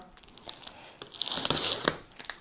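Packing tape on the side of a Xiaomi X20 Pro robot vacuum box being slit open with a small cutter, giving close crackling, tearing and crinkling bursts that swell in the middle and ends with a few sharp rips.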